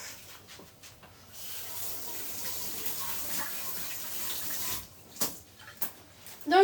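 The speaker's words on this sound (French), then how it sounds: "Bon, bah, vous savez quoi, je vais les passer sous l'eau." Tap water running steadily into a kitchen sink while fresh herbs are rinsed, a continuous hiss and splash lasting several seconds before breaking off into a few brief clatters near the end.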